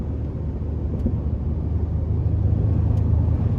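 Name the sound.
2013 Ford F-150 3.5 twin-turbo engine accelerating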